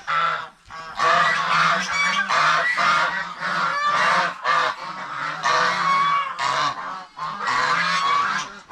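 A flock of geese honks loudly and continuously at close range, many overlapping calls forming a dense, raucous chorus with only brief pauses.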